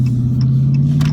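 2019 Dodge Challenger R/T muscle car engine rumbling deeply and steadily while driving, a loud, close, low drone with no talk.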